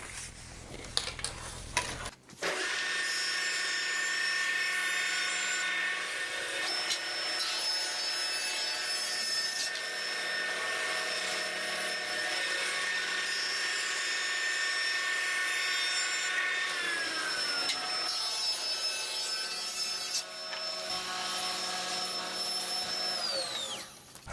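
A saw rips thin wood strips for veneer edgebanding, a loud, steady machine whine running continuously from start to finish, close by, with no talking.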